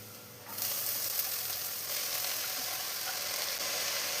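Spices frying in a pan for a spinach and toor dal thoran, a steady hissing sizzle that starts abruptly after a quiet half second and continues evenly, close and without speech.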